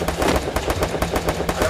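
Rapid bursts of automatic gunfire from Free Fire Clash Squad ranked play, a steady loud rattle of shots in quick succession.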